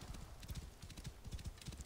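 Horse hooves gallop in a quick, steady clip-clop rhythm in the video game Assassin's Creed Origins, fairly quiet and without talk.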